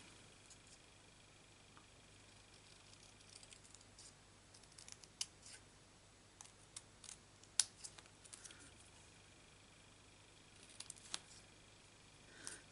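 Scissors snipping paper for a stamped greeting card craft, a handful of faint, sharp clicks scattered over a quiet room hum, spaced irregularly rather than in a steady rhythm.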